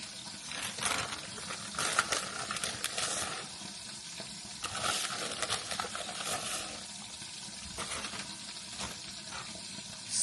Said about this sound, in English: Stir it some more.